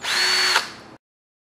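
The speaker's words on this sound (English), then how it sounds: "it's time to drill some pilot holes" A power drill bores a pilot hole into a wooden shelf for a wood and pipe shelving unit, a steady high whine for under a second that bites in, then spins down and stops abruptly, loud and close.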